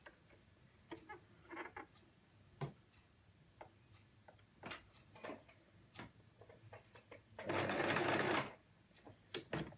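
A sewing machine stitches a wrap skirt waistband in one short, clear burst near the end, set among quiet ticks and clicks of handling.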